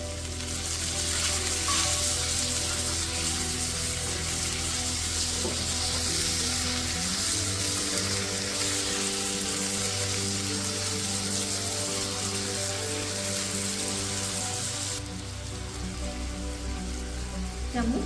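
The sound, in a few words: chopped tomato sizzling in pan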